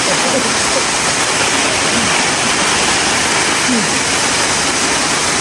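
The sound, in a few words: waterfall at Caunayan Falls, Aurora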